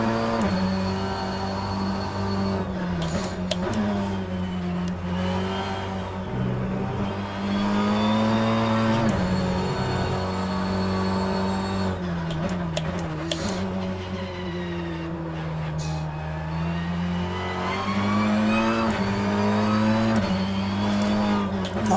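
A race car engine in the racing simulator rFactor 2 drones continuously at high revs, pitch rising and dipping with gear shifts and corners, loud and steady with no voices.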